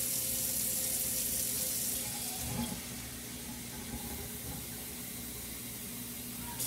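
Steady broadband rush of water pouring into a cooking pot, continuous and fairly close, easing slightly partway through with no voices.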